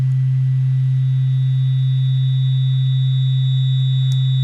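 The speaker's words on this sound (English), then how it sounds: "that really high-pitched waveform, that really high-pitched sine wave" A sine wave synth in Ableton Live plays a steady, unbroken electronic tone that holds constant for the whole stretch, with fainter thin higher tones above it.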